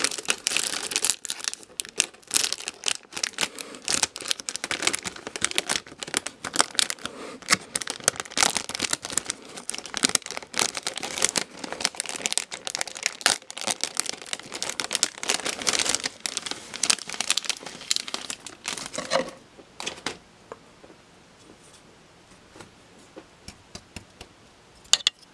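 Crinkling and tearing of plastic packaging as a 1/100 Over Flag model kit is opened, a close, busy stream of crackles and rustles that runs steadily for about twenty seconds before fading to quiet handling.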